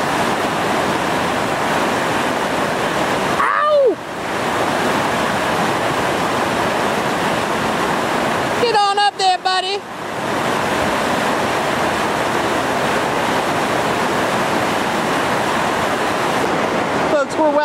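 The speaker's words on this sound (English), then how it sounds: "we're well downstream here of the Hungry Mother Surf Hydraulic" Whitewater rapids on the Gauley River at Hungry Mother, running around 2800 cfs, roar as a loud, steady wash of rushing water with wind buffeting the microphone, continuous and close throughout.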